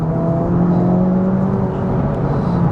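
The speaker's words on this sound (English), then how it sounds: "this car will pull on anything" An Acura Integra Type S accelerates on a highway, its engine droning loud and steady with a rising whine and a constant rush of road and wind noise heard from inside the car.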